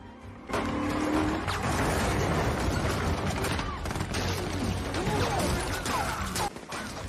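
A gunfight from the film Fast X, where Ames's troops trade fire with Dante's men: dense, continuous bursts of gunfire over crashes and rumbling engine noise, loud and sustained throughout.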